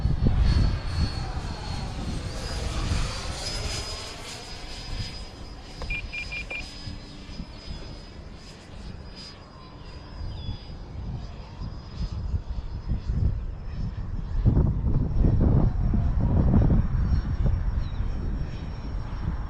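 A Freewing Eurofighter 90mm electric ducted-fan RC jet whines overhead in flight, its high turbine-like tone swelling and fading as it passes, with a few short electronic beeps partway through.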